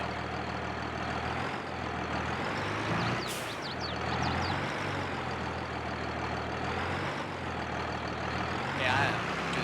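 Truck engine in Farming Simulator 22 idling and revving steadily while the truck reverses, a continuous low rumble with a brief rattle partway through.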